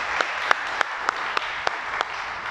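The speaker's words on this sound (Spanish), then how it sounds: "Dale un aplauso" Sustained applause from a church congregation fills the space, a steady wash of many clapping hands with a few sharper, louder claps standing out at regular intervals.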